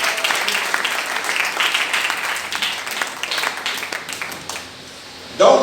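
Conference audience applauding, a dense burst of clapping that swells and then gradually fades, with a voice breaking in at the end.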